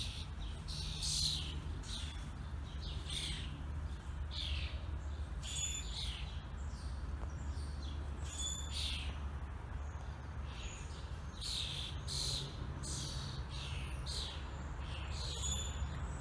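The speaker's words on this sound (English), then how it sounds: "I believe that it's a family of robins." Robins, several together, sing in a rainy home garden, giving repeated bright chirps and short song phrases at moderate distance over a steady low background hum.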